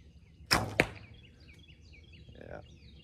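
Carbon fiber arrow loosed from a Cabela's Thundor recurve bow, giving a sharp twang and whoosh followed a beat later by a loud thwack of impact, then quiet with faint background chirps.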